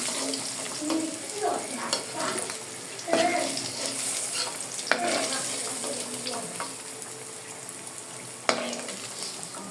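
Fish frying in hot oil in a pan gives a steady close sizzle, broken by scraping and clinking of a utensil as the pieces are turned and lifted out.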